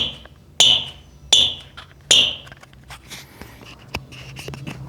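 Puma Ultra Match IT futsal shoes give three sharp, high squeaks in a quick, uneven series, followed by softer scuffs and taps on an indoor surface, fairly close and without speech.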